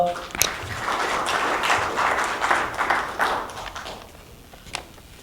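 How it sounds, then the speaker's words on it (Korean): An audience at a Korean peace symposium applauds a congratulatory speaker. The clapping swells quickly, holds for a few seconds, then thins out and fades near the end. "뜨거운 박수 부탁드립니다"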